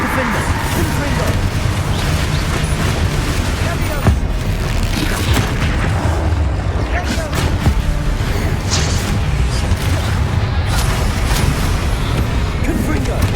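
Bombarda and Confringo blasting spells fired in a Hogwarts Legacy duel, a dense run of booming magical explosions layered over constant low rumble and clatter, loud and close, with a voice calling out spell names throughout.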